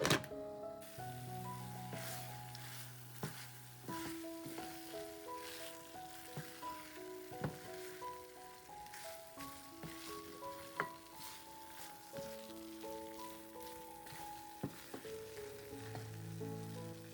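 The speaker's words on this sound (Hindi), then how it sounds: "यहाँ पे देखिए अपना मस्त सारा चिकन कुक हो रहा है" Chicken fries in a pan with a steady sizzle, broken by crisp pops and clinks of stirring, heard close and alone with no voices.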